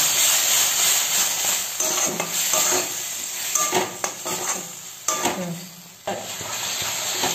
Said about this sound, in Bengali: আমার মশলা ভাজা হয়ে গেছে, মশলার থেকে তেল ভাজা হয়ে গেছে।